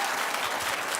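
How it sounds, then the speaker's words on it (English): A studio audience on a daytime talk show claps in a dense, steady burst of applause that fills the whole moment, loud and close. "clap if you think I'm judging too much"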